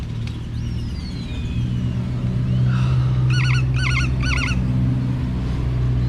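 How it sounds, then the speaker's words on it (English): A bird calls near a seaside spot in Mexico, first a thin descending whistle, then three quick repeated warbling bursts, heard over a steady low rumble of traffic or wind. "I'm gonna kill this bird in a minute."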